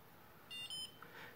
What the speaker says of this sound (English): when it beeps, it means it's got enough blood